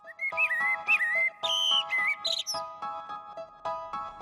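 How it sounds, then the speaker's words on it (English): Repeated cuckoo-like bird calls sound over sustained musical tones, clear and close, with a brief higher whistle in the middle. "It's just the sound of some cuckoos and the sound of a child's voice."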